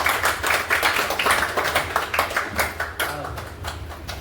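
Applause welcoming a guest at a business weekly meeting, a dense patter of many hands clapping steadily and loudly, with some voices mixed in underneath.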